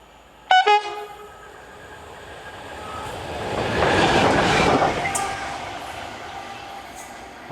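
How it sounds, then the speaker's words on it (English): A train sounds a short, sharp horn blast, then passes close by with a swelling rumble and rattle of its cars that peaks midway and fades away. "I can see the train coming now"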